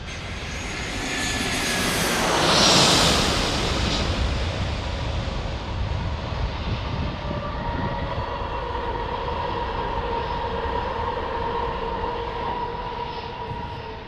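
An Allegiant airliner lands at San Diego airport, its jet roar swelling to a loud peak then settling into a long, steady rumbling whine as it rolls out, heard from nearby with no talking.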